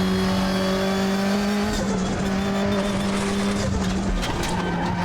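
A Volvo 240 race car in the Raceroom racing game holds a steady, loud engine drone with tires squealing and skidding through a twisty section, continuous from start to finish with no talk.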